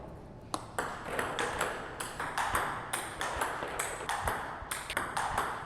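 Table tennis ball struck repeatedly on short receives with a Glayzer 09C rubber, a steady series of sharp close clicks and bounces at a brisk rhythm with no talking.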